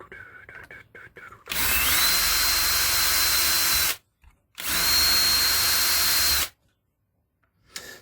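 A power drill bores out holes in a crossover board from a Celestion Ditton 33 loudspeaker, with two long, steady whining bursts of about two seconds each, close and loud, separated by a brief silence.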